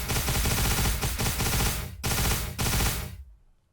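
A Warhammer 40k mod weapon in ARMA 3 fires long, loud bursts of machine-gun fire, broken by a few brief gaps, before cutting off into silence.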